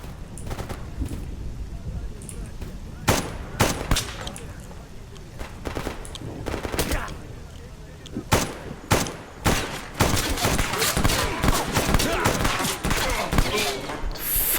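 Rapid bursts of gunfire in the video game Escape From Pripyat, loud and close, with sharp volleys clustered early and a dense sustained stretch at the end, mixed with a player's voice talking.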